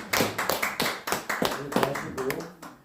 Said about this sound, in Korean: 우리 총재님께 박수 한번 쳐주세요